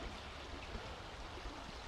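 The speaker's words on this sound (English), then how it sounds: "I'm on the local river again" A local river flows steadily nearby, giving a continuous broadband rush of water with no breaks or voices.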